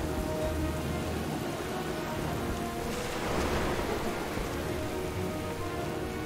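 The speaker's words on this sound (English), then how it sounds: "Captain, we can't weather this storm for long." Steady rain pours down in a World of Warcraft storm, with a soft swell of rumbling thunder midway, continuous and moderately loud without voices.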